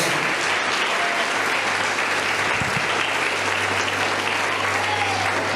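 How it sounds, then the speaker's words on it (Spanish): A church congregation claps together in sustained, dense applause at an anniversary service, loud and steady from start to finish with no talk over it. "Dale un aplauso al Señor"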